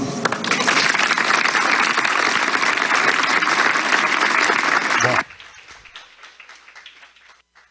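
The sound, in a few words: audience applause at a lecture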